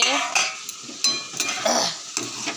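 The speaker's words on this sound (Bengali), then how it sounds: "এগুলো কড়াইতে ভালো করে নেড়ে নেব মশলাটা দিয়ে সবজিগুলো" Okra and potatoes with spices are stirred in a wok, a spatula scraping in repeated short strokes over a soft sizzle while a voice speaks over it.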